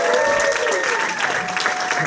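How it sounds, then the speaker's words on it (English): An audience at a standup comedy show at Comedy Shrine in Aurora claps steadily for a comedian, with a voice speaking over the applause throughout. "Keep those claps going for Carlos Marquesinas."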